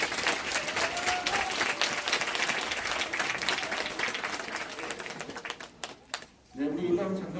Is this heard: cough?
no